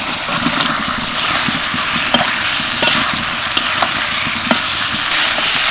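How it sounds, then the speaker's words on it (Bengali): Fried potatoes sautéing in spice masala in mustard oil for a vegetarian nawabi alur dom, a loud continuous close sizzle with stirring scrapes and occasional sharp clinks of a spoon. "আলু দিয়ে প্রায় দেড় থেকে দু মিনিট মতো কষিয়ে নিলাম"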